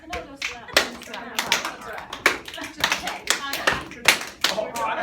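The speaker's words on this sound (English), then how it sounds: "I can never just snap, clap." A group claps and snaps fingers in a loose, repeating rhythm, with sharp uneven hits over a few seconds and voices talking between and under the beats.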